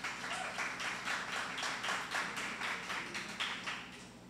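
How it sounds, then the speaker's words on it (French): Scattered clapping from a small audience, quiet and somewhat distant, steady for a few seconds before thinning out. "je vous demande de l'applaudir automatiquement"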